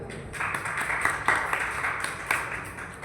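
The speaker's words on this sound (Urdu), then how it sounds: "بیٹی کے لیے تالی ہے" A group claps in applause for a girl's answer during a Christian teaching session on prayer, a steady patter of many hands lasting about three seconds with a few louder bursts.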